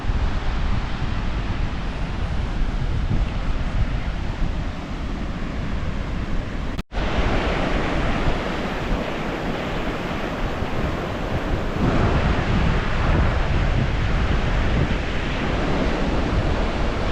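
Sea waves on an empty, quiet beach at Šventoji on the Lithuanian coast, a continuous broadband wash of surf with some wind noise on the microphone and no voices.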